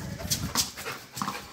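A dog during a football game with people makes short whimpering yips and panting sounds, close by and fairly quiet, in a few brief bursts with no clear speech.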